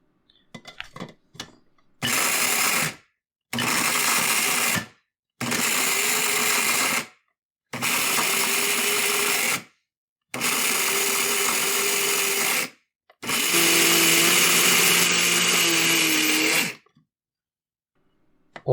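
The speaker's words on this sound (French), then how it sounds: "Toutes nos épices, on les place dans un moulin à café et on va moudre" An electric coffee grinder grinds gingerbread spices, running in six loud, even bursts of a few seconds each, separated by brief silences, with the last burst the longest.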